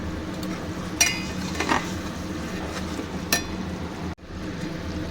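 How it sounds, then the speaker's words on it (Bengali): Mutton being stir-fried in a pot, with a steady low sizzle and a few sharp clinks of a spoon against the metal, close by and with no talk. "ততক্ষণ আমি মাংসটা কষাতে থাকবো"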